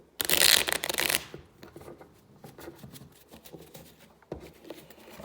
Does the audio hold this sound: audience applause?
no